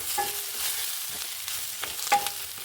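Chilies fry in a little oil in a pan while making onion tokku, giving a soft sizzle with a few scrapes and stirs of a spoon and no talk.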